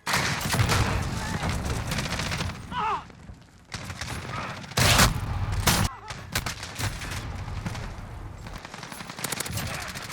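Automatic rifle fire emptying a 60-round magazine on the Shipment map in Call of Duty, loud sustained bursts close up with brief gaps and a few sharp blasts, mixed with other gunfire.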